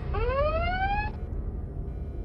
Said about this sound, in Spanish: ¿Por qué está sonando esa alarma?